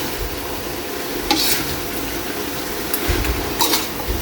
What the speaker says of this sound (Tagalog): maglagay tayo ng suka Kaili. Imikos lang muna natin